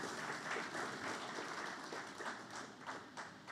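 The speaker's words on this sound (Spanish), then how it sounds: "Un aplauso para ellos, porque sirven de todo corazón y no esperan." A church congregation applauds its bivocational pastors, a dense, steady wash of clapping from many hands that holds at a moderate level for a few seconds, with faint murmurs mixed in.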